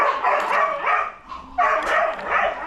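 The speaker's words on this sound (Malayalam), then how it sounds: "എൻ്റെ പട്ടിക്കുഞ്ഞുങ്ങളെല്ലാം കിടന്ന് കരയുന്നത്" Puppies yelping and whining in a continuous overlapping chorus, fairly close and loud, with a brief dip before the cries swell again.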